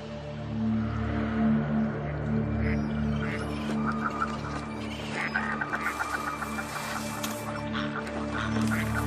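Common merganser calling among other waterfowl, a mix of duck-like quacks and honking cries layered over a low steady drone, the calls coming in scattered bursts at moderate distance.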